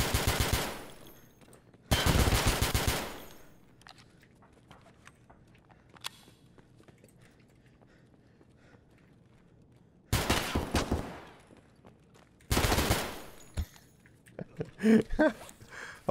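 Gunfire from a low-recoil gun in Escape From Tarkov, heard as two loud bursts of rapid shots near the start and two more later, separated by quiet stretches of faint footsteps and game ambience.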